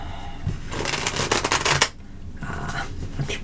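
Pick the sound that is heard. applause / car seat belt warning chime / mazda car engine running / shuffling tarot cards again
shuffling tarot cards again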